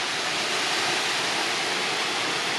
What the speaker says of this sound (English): Nice little running waterfall.